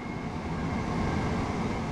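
A train in Train Sim World on the East Coastway line to Eastbourne gives a steady, loud rolling rumble with a low drone as it slows. There are no breaks in the sound.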